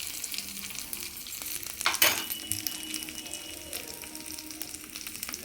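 Tempering for moong dal rasam frying in a hot pan, a steady close crackling sizzle throughout with a sharper burst of spattering near the middle, no voices.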